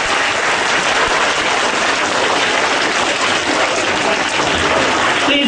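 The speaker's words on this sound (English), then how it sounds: "Let's give a big round of applause to Mr. Manoj." Students and teachers at a school assembly give loud, sustained applause for a guest, a thick and unbroken clatter of many hands that lasts the whole stretch.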